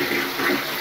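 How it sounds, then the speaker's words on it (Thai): A toilet flushes in a Japanese ryokan-style hotel bathroom: a brief, loud rush of water up close, with no talking. "พอเรากดชักโครกปุ๊บ"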